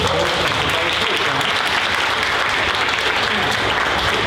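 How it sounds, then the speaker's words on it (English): Applause at a convention panel audience, a dense continuous wash of many hands clapping that holds steady throughout, loud and close, with some voices mixed underneath. "give him a round of applause"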